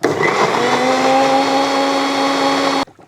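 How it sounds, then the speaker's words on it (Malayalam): A blender whirs loudly and steadily as it purees rambutan with sugar into juice, its motor holding a constant pitch close by before it cuts off abruptly. "ഇനി നമുക്ക് ഇതൊന്ന് ജ്യൂസ് അടിച്ച് നോക്കാം"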